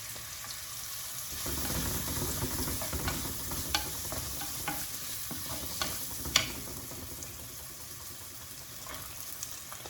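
Onion, ginger and garlic frying over high heat in a pan, a continuous sizzle with scattered spatters and stirring clicks, close and moderately loud, no talking.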